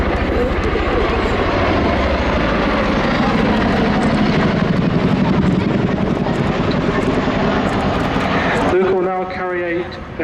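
A loud, steady Chinook Mark IV helicopter rotor roar fills an armed forces day flying display continuously, then drops off sharply near the end, leaving a fainter whining engine tone.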